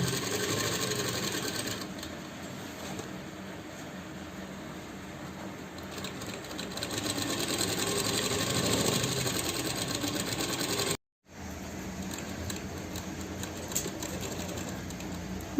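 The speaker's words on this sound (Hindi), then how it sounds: "फिर हमें नीचे से इसको स्टिचिंग करके लाना है।" A sewing machine stitches the panels of a velvet pheran, humming and clattering continuously up close, then stops for a moment and starts again.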